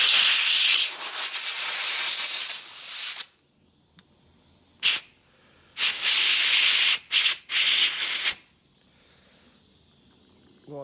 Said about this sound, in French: On va essayer de voir ce que ça donne en lui mettant de l'air comprimé.